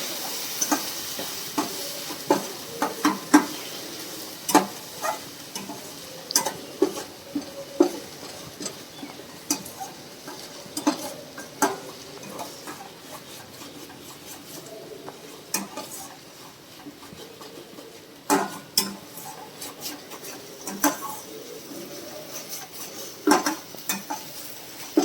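A spoon scrapes and clinks around a pan as cashew-poppy paste is stirred and fried for curd katla fish, giving irregular sharp knocks over a soft, steady sizzle.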